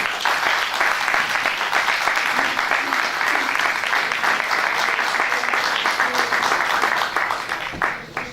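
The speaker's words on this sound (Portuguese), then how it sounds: "uma salva de palmas para António Matias de Almeida" An audience at a Remax staff meeting in Ponte de Sor breaks into sustained applause, a dense, loud, steady patter of many hands lasting several seconds before tapering off near the end.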